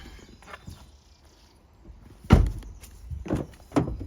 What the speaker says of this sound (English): The bonnet catch,